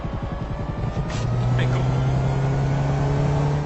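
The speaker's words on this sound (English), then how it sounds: "initially runs silent until you aggressively accelerate, at which point the engine kicks in" In GTA 5, a Dilettante hybrid car cuts in with an engine drone that rises and holds steady under hard acceleration, close and fairly loud, with a few brief higher noises near the start.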